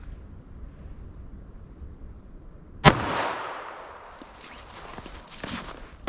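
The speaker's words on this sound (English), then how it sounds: "So here's our 38 Special for our real world simulation." A single sharp gunshot from a .38 Special snubnose revolver firing wadcutter ammunition cracks out about halfway through, loud and close, with a brief outdoor echo trailing off amid wind noise.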